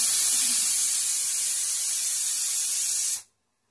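A pressure cooker vents steam in one loud, steady hiss, cooking vegetables for Bombay pav bhaji, holding strong for about three seconds before cutting off sharply into silence.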